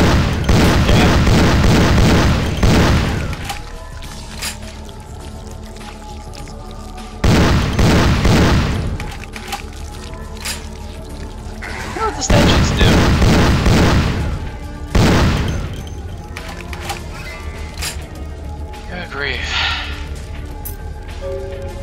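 Heavy booming explosions in a video game arrive in several big bursts spread across the stretch, with scattered gunfire and debris clatter filling the gaps between them; loud and close, with no voices.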